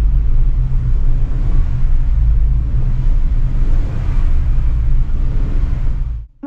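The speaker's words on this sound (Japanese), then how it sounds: "ニュートラルで空ぶかし。" A Subaru WRX S4 engine revs hard in neutral while stationary, a loud, steady low rumble that holds for several seconds before cutting off abruptly.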